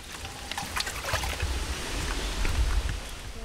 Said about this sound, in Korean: 산길을 오르다 만난 약수터